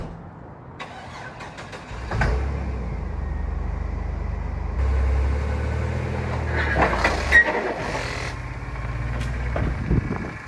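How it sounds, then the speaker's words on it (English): A 1999 Chevy Astro van cranks and catches, then idles and revs as it backs up, the mid-pitched engine rumble steady and close with a few clunks of the transmission shifting. "I'm gonna try to start it, back it up"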